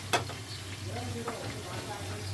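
Pieces of pointed gourd (potol) fry in a pan with a soft, steady sizzle, a sharp stirring clack near the start and a low hum underneath.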